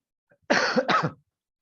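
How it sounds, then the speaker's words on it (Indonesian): Two quick, close coughs in rapid succession, loud and clear against silence. "jadi agak batuk sedikit"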